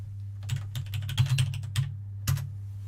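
Quick taps on a computer keyboard come in short irregular clusters over a steady low hum, fairly close and moderately loud, with a brief pause before a final keystroke.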